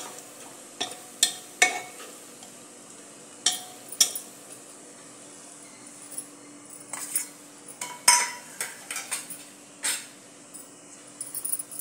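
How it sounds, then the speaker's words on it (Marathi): Veg biryani masala, garam masala and turmeric stir-fried in oil for a dhaba-style veg masala khichdi: a low sizzle runs underneath while a spoon scrapes and clinks against the pan in scattered, irregular strokes, close and fairly quiet. "हा व्हेज बिर्याणी मसाला आणि हळद। तेलामध्ये चांगलं परतून घ्यायचा तो मसालाही।"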